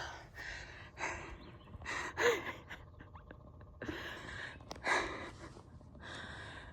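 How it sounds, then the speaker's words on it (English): Heavy, labored breathing after a steep hike up to a viewpoint in Shenandoah National Park, several close gasping breaths and sighs in bursts with quiet pauses between. "I'm breathing heavy because that was something else getting up there."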